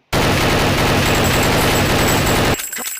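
Counter-Strike gunfire pours out in a loud, dense, sustained automatic burst lasting over two seconds, then cuts off abruptly into quieter scattered game sounds.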